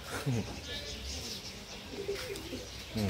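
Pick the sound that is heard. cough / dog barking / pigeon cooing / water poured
pigeon cooing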